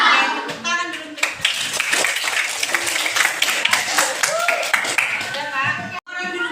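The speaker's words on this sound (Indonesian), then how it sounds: "tepuk tangan dulu untuk" Classroom clapping from a group of pupils, a steady patter of many hands through most of the stretch with children's voices chattering over it, ending in a brief pause.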